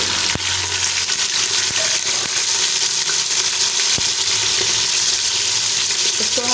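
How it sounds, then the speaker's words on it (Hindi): Onions fry in half a cup of oil in a pressure cooker, giving a loud, continuous, close-up sizzle and crackle with a few faint clinks of stirring. "मैंने इसमें हाफ़ कप ऑयल लेकर ये प्याज ऐड करूँगी।"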